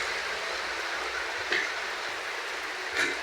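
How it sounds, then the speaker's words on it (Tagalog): Heavy rain pours steadily outside a house, a dense, continuous hiss with a couple of louder splashing bursts and no talk. "Dahil po lakas ng ulan."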